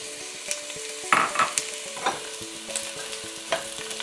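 Chicken pieces sizzle steadily in hot oil, with a soft crackling hiss punctuated by occasional scraping stirs from a wooden spoon and light clinks.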